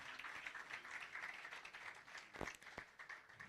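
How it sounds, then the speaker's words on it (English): Audience applause at a live event, a dense patter of clapping hands that stays moderately faint and distant, with a couple of sharper individual claps near the end. "A round of applause."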